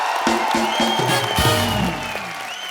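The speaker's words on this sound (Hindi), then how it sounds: "शाहरुख भाई के लिए जोरदार तालियां" A studio audience claps for Shah Rukh Khan on a comedy talk show, brief dense applause with a few cheers, close and fairly loud, settling slightly toward the end.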